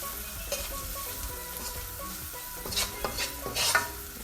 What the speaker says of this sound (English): now you're gonna allow that to fry. We call that burning the curry.